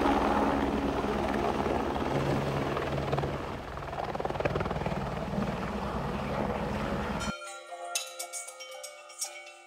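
A helicopter at Kedarnath gives a loud, steady rotor and engine roar that fills the first seven seconds, then cuts off abruptly into a different quieter scene with scattered faint sounds.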